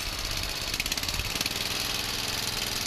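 A lawn mower tractor engine runs steadily on a test drive, a loud, close, continuous mechanical drone with a rapid knocking pulse throughout, and no voices over it.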